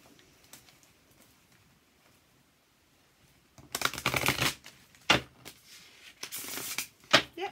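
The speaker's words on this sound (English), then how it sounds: "see what it's like to riffle shuffle" Riffle shuffling of a card deck: two quick whirring riffles, each ending in a short burst as the cards bridge together, after a quiet start.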